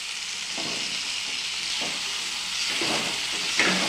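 Boiled peas sizzling in hot oil as they are stirred through a cooked-down spiced masala in a kadai, a continuous close frying hiss with a few soft scraping stirs and no talking.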